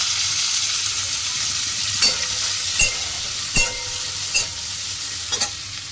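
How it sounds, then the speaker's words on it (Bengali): Soaked cashews and raisins fry in hot ghee in a kadai with a loud, constant hiss and sizzle, a few spatula scrapes and taps cutting through at intervals, close with no voices. "ভালো করে ভেজে নিয়ে একটুকুনি কাজুটা যখন লাল লাল হবে"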